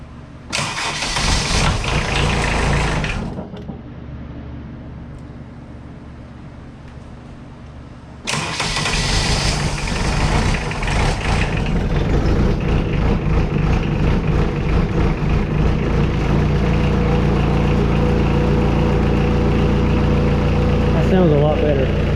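A 1998 WoodMizer LT40 Super Hydraulic sawmill engine with glow plugs cranks, then catches and settles into a steady, loud idle, with a brief pause between cranking bursts and a voice speaking over the running engine.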